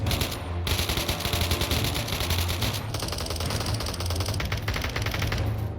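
Dense, continuous gunfire in a Minecraft multiplayer battle around a desert base, rapid shots overlapping into a sustained fusillade at steady loudness, with no talking.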